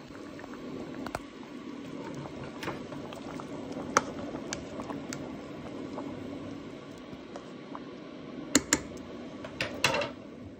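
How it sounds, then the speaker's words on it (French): Potatoes simmer in veal stock in a pot, a steady soft bubbling with scattered light clicks and a few sharper taps near the end, no voices. "je laisse cuire le temps que les pommes de terre terminent de cuire, avec le fond de veau"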